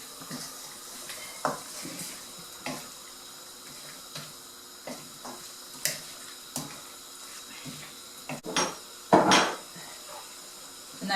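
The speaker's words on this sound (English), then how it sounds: "Keep stirring." A spoon clinks and scrapes against a pot as chicken curry is stirred, with intermittent knocks and clatters at irregular intervals, a few sharper metallic hits near the end, over a quiet background.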